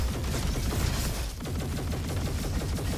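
Rapid, sustained gunfire from a dual weapon in the robot shooter game Roboquest, a fast steady stream of shots close and loud throughout with no talking.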